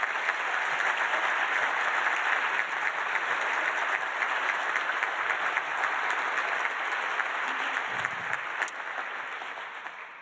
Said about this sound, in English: I would just like to give the whole Norway House a big round of applause for all their support.